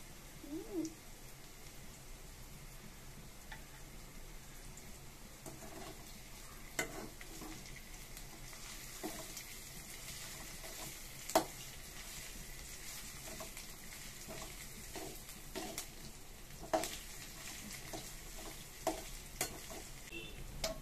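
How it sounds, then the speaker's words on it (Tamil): Chicken fried rice frying on a low flame, a soft steady sizzle with occasional scrapes and taps of a stirring utensil against the pan. "கம்மியாக வச்சு வறுக்கணும்"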